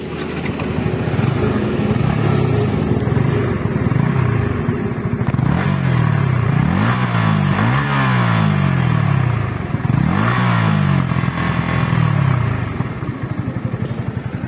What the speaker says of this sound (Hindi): तो एक बार एग्जॉस्ट नोट भी मैं आपको इसी वीडियो में दे देता हूँ।